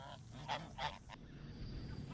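Geese honk in a few loud bursts alongside ducks on a farm, close and outdoors, with a low background murmur.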